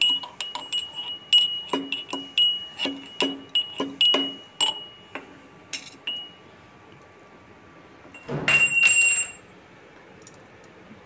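Peppercorns, small cardamom pods and cinnamon sticks are pounded in a steady run of bright, ringing clinks. A short, rougher crunching burst follows near the end.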